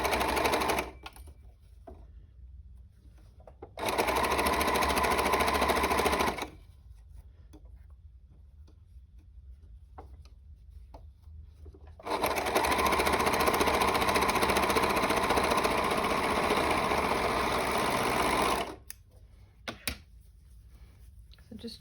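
A sewing machine stitches around the sleeve cuff of a knitted jumper in bursts of fast, even mechanical whirring, each run lasting several seconds and separated by quiet pauses.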